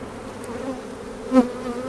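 Honey bees buzz steadily as brood frames are shaken into a new hive outdoors, a continuous droning hum with a brief louder swell near the end.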